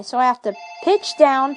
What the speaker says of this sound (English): Ooh, sorry, that's the phone.